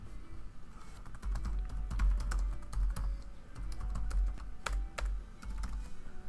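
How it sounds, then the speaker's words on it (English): Keys on a computer keyboard are tapped in short, irregular bursts to enter a password, close by and fairly quiet, with no talking. "And then finally just put in the password and press add."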